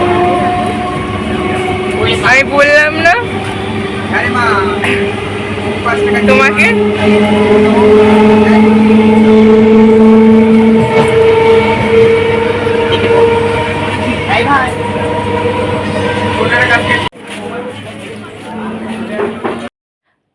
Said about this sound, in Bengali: তো যাই হোক ট্রেনটা ঢুকছে দেখো তো এবার আমরা ট্রেনে উঠে পড়বো